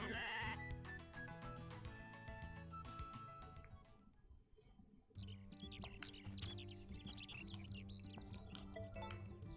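In the farm game Story of Seasons: A Wonderful Life, a sheep gives a few short, bright bleats over cheerful looping background music and chirpy bird sounds, quiet and close, with no talking.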